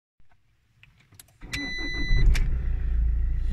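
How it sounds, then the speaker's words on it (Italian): A car engine cranks and catches on the first try after a new battery is fitted, settling into a loud, steady idle close by after a few quiet clicks. "La macchina si mette a moto al primo colpo."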